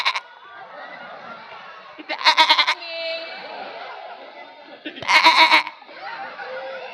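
A man imitates a goat with two loud, wavering, nasal bleats a few seconds apart, each breaking into a shaky vibrato, while softer talking and murmuring from the audience continue in between.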